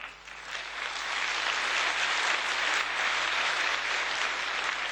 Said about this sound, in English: Oui, vous pouvez l'applaudir, pourquoi pas